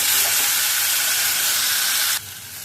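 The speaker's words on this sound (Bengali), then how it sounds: "ভাজা ভাজা হয়ে গেল, এবার আমি আলুগুলো ছেড়ে দিচ্ছি।" Potatoes drop into hot oil with frying panch phoron spices in a pan, setting off a loud, continuous sizzling hiss that stops abruptly near the end, with no talking.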